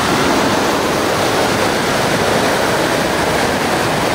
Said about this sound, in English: There's the rushing water.